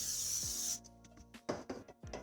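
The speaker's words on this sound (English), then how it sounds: "we're gonna spray the pan with some vegetable oil" Vegetable oil spray hisses into a pan on a stovetop in one steady burst of under a second, followed by faint rubbing and handling sounds with no talking.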